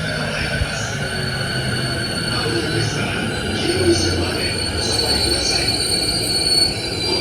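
A train rumbles past in Japan with steady rolling noise and high metallic wheel squeals, a person talking faintly under the din.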